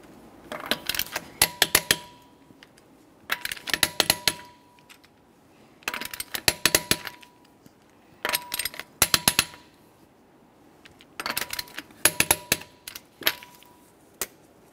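A wrench torques the wheel lug nuts on a 2011-2020 Toyota Sienna in a crisscross order, with clustered bursts of sharp metallic clicking that repeat about every two seconds, separated by brief quiet.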